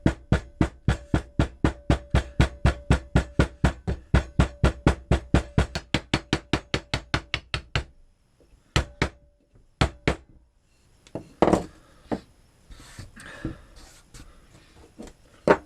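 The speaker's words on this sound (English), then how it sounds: "You can even use a hammer" A hammer packs material hard into a mold with a fast, even run of sharp blows, then a pause and a few scattered, irregular knocks.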